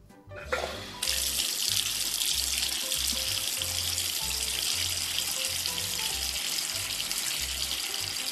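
Water runs steadily from a tap, a continuous hissing splash that starts abruptly and keeps flowing at an even level without any speech.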